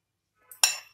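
Boiled elephant foot yam (suran) tipped into a bowl while making chokha, heard as a soft scrape followed by one sharp clink of metal on a dish, short and close, with no talk.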